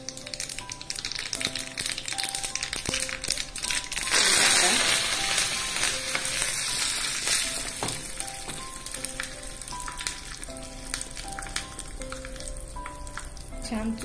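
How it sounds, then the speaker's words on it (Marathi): Mustard seeds, cumin and sesame crackle in hot oil for a dhokla tempering, a continuous close sizzle with scattered pops and spoon stirring, swelling louder for a moment partway through. "छान चुरचुरीत फोडणी"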